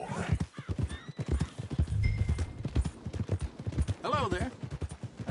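Steady, close clip-clopping hoofbeats of a horse ridden in Red Dead Redemption 2, with a short whinny, heard under a voice talking.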